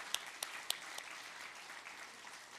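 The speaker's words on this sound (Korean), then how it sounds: "그 하나님께 영광의 박수 올려드립니다" A church congregation applauds after a Sunday sermon: a few sharp claps stand out at first, then a soft, distant spread of clapping continues at low level.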